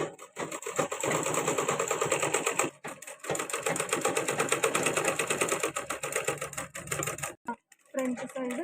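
A sewing machine runs in long rapid bursts while stitching a baby frock, loud and close, with a brief pause partway through and a short stop near the end.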